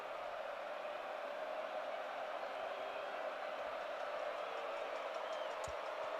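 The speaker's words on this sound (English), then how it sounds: "This Notre Dame crowd is getting real loud." A packed Notre Dame football stadium crowd roars steadily and loudly during a game against Boise State, a dense, unbroken wash of distant cheering that never lets up.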